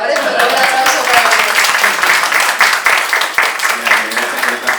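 An audience claps at a Spanish-language book presentation on overcoming anxiety, a steady wash of applause through the clip with a voice speaking over it.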